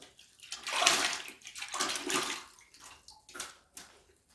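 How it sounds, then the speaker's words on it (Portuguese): Water sloshing and splashing in a bucket used for rinsing hands and tools during a cement and wall-putty mixing job, with close, irregular bursts of swishing and gurgling across the whole stretch and no talking. "Aqui eu tenho um balde com água."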